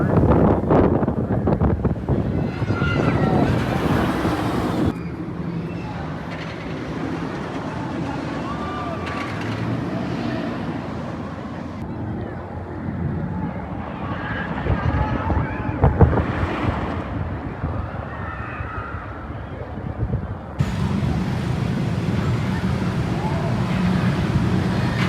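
Strong wind buffets the microphone in loud, rushing gusts at Fun Spot America Atlanta amusement park, with waves and water noise underneath, rising and easing in long stretches.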